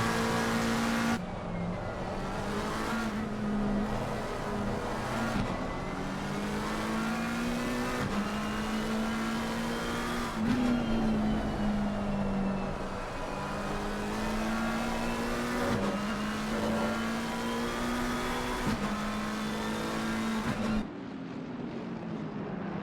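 On-board sound from an Indy race car chasing a Porsche: a loud, sustained engine drone that rises and falls through repeated gear shifts and revs, heard close throughout with no talk.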